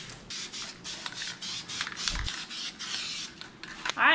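A spray can lays a coat of silver paint on a Jeep Wrangler LS swap engine part, heard as a series of short hissing bursts with brief pauses between them, close and fairly loud.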